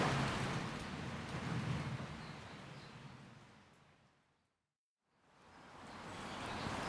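Steady rain falls on a wet day in Fukuoka, Japan, a dense hiss that fades to near silence midway and then swells back to full strength.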